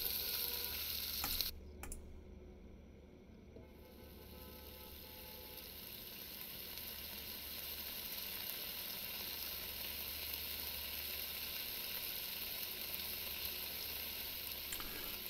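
Onion and carrot sizzle in a pan in the Cooking Simulator video game, a steady, loud frying hiss running throughout after a brief dip near the start, with no talking.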